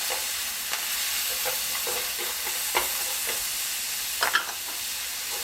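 Onions stir-fried in a wok for mapo tofu, a steady bright sizzle broken by repeated scraping strokes of the spatula at an even pace, close and fairly loud with no talk.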